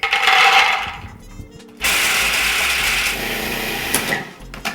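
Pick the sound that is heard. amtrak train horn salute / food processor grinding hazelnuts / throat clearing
food processor grinding hazelnuts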